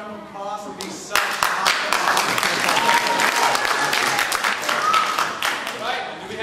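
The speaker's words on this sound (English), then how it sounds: "Can you give them another round of applause for being so" An audience breaks into loud applause for the cast of a Hamlet performance, a thick burst of clapping rising suddenly after a short pause and continuing strongly, with some voices beneath.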